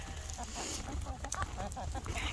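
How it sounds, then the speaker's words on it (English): Farm chickens cluck in short, overlapping bursts while being fed kibble, a busy close flock sound over steady low background noise. "So we'll give the chickens some kibble."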